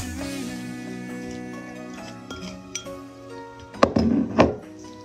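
A spoon stirs powder mixed with a little cold water in a cup, giving light clinks and scrapes that pick up toward the end, close and with no talk.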